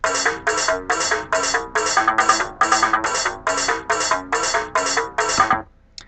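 A bright, plucky electronic melody made in FruityLoops Studio 10 plays in short, evenly spaced notes over a simple beat, looping steadily before stopping abruptly.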